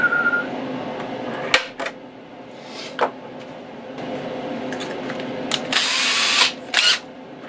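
A power drill boring a pilot hole while fitting headphones to a metal detector, sounding in several short, loud whirring bursts close by, the last a longer run.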